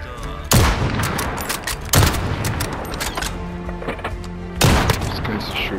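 Call of Duty: Modern Warfare killstreak action with heavy gunfire and booming impacts: three loud blasts land at intervals, with bursts of automatic fire and crackling shots between them, close and dense over a busy game mix.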